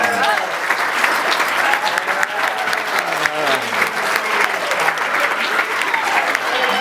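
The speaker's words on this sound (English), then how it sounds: "Let's hear a round of applause." Sustained applause from guests at a wedding reception following a best man speech, dense and steady clapping with cheering voices mixed in throughout.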